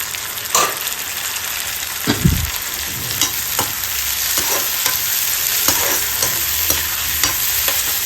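Tomatoes and onion frying in a pan, sizzling steadily with a few sharp stirring scrapes and clatters breaking through the hiss.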